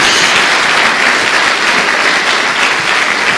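A church congregation bursts into sustained applause, dense and loud, with steady clapping throughout and no break.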